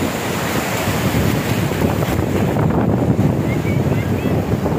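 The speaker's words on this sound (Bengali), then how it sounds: "এত পরিমাণ মানুষ আর বাতাস আর যে ঢেউ আসতেছে, ঢেউর মাত্রা বাইরে।" Sea waves and strong wind on Digha beach make a loud, continuous roar of surf and wind buffeting the microphone, steady throughout with no clear gaps.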